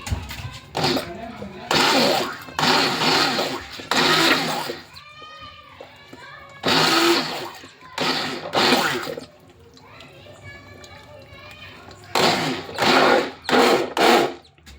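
An electric blender churns buttermilk in loud, roaring bursts of a second or two that start and stop repeatedly. Quieter gaps between the bursts carry talking.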